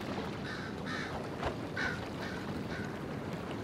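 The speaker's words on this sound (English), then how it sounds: "So there's a lot of birds hanging around." Several birds calling in scattered, honking caw-like bursts over a steady ambient wash, set in the fantasy game Dragon Age Inquisition; the calls are moderately near and no one speaks.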